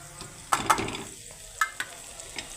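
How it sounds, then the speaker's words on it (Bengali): Cumin, coriander, chilli and turmeric powders go into a pan of frying potatoes, making a soft sizzle with a few sharp clinks of a stirring spoon against the pan. No one speaks. "এখন আমি এই যে জিরে গুঁড়ো ধনে গুঁড়ো লঙ্কা গুঁড়ো হলুদ গুঁড়ো এখন দিয়ে দিচ্ছি"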